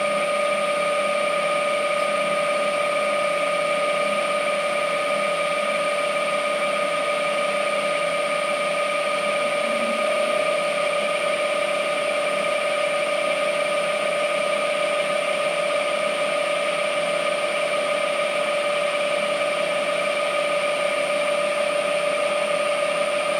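A machine tool cuts the first millimeter into a part for a Stirling engine build, a continuous steady whirring hum with tonal whine, loud and close, unchanging throughout.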